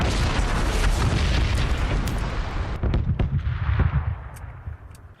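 Bombs explode in the battle royale game Battlegrounds, a loud, rumbling blast followed by crackling bursts and a fading roar, with no voices over it.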